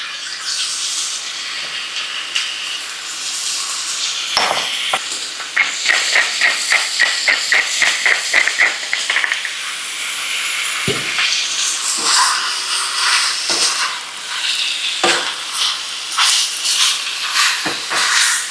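Beef browning in a hot pan, a loud hissing sizzle throughout with a quick burst of rhythmic tapping and scraping strokes partway through, then scattered sharp knocks.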